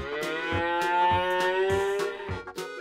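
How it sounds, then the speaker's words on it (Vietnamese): A cow moos in a long, loud, drawn-out call, heard up close and alone, with faint rhythmic thuds underneath. "Con bò."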